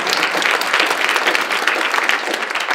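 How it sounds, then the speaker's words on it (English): An audience at a gun violence reform event in Massachusetts breaks into steady, dense applause, a continuous wash of many hands clapping, fairly close and even in loudness. "You can clap, please clap"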